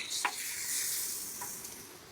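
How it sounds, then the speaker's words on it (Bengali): Many small fish fry together in hot oil in a village kitchen, giving a steady close hiss and sizzle with a couple of brief spatters, and no talking. "অনেকগুলো মাছ তো ভাজতে হবে"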